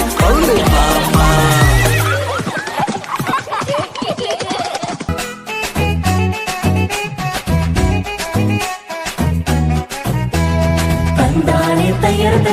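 A horse neighs and whinnies at a church vacation Bible school event, heard amid loud, busy music with rhythmic clip-clop beats running throughout.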